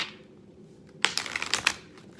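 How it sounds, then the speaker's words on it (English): A deck of tarot cards shuffled close up in a quick burst of crisp riffling flicks lasting about a second, following a soft hiss. "I'm just gonna shuffle this 2 more times"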